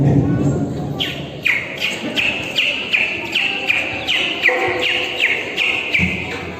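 A human voice imitates a bird chirping in a garden, giving a long run of rapid, evenly spaced high chirps and whistles, close and clear, with a few soft thumps underneath.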